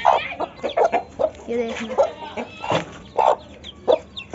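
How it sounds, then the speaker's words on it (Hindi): Chickens cluck and squawk in short, loud bursts as a rooster and a black hen fight among the flock, with someone talking briefly over the commotion. "मुझे लगता है काली मुर्गी इससे डर गई है।"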